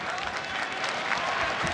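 An arena crowd at a ONE Championship fight between Demetrious Johnson and Rodtang claps and cheers, a dense, steady wash of applause lasting under two seconds, with a commentator's voice faintly mixed in.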